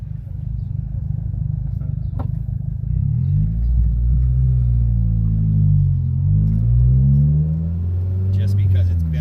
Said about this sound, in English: All right, we're gonna do a quick lap around the block.